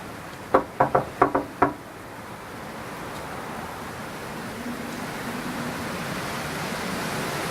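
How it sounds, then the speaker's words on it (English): Five quick raps on a door in a brisk, evenly spaced burst, fairly close and crisp, then steady background hiss with no talking. "I was knocking on the door"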